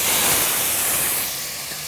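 Onions and mushrooms hit hot oil in a Dutch oven on a side burner, giving a loud, steady broadband sizzle that eases slightly toward the end, with no voices.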